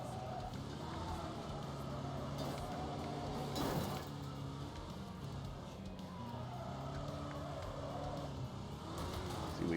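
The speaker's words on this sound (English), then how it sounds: "Limo with dual exhaust, man." Limousine with dual exhaust in a racing video game, a steady low engine drone with rumbling harmonics and slight pitch shifts, moderately loud and continuous with a brief burst near the middle.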